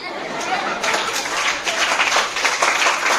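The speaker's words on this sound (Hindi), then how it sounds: "तो जोरदार तालियां" An audience breaks into applause, a burst of close, lively clapping that swells and stays strong for several seconds, with some chatter mixed underneath.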